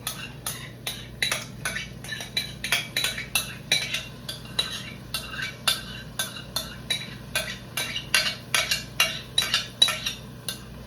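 Squash, with its excess water squeezed out, goes into a skillet amid busy metal clatter: quick, irregular clinks and scrapes of a utensil against the pan repeating throughout, with a faint low hum beneath and no talking.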